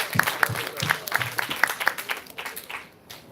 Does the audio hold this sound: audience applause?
yes